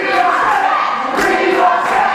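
A wrestling crowd at a UKW Showdown live event chants for Sketch, a dense, loud roar of many voices rising and falling in rhythmic waves.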